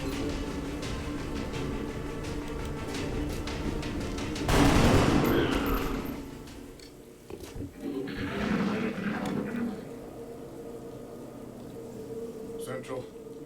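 Soldiers in XCOM: Enemy Unknown open fire with a loud burst of gunshots and a rumbling blast that swell and fade, followed by a second, softer volley, with a voice speaking over the background.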